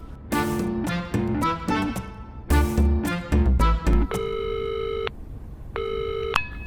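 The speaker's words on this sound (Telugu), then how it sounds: "వైషుకి ఫోన్ చేద్దాం." A telephone call being placed: a quick run of dialing tones in bursts, then a repeated electronic ringback tone sounding twice, clear and close with no voices.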